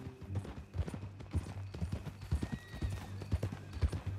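Steady clip-clop of horse hooves at a walking pace in Red Dead Redemption 2, fairly close, with a faint background hum and no talking.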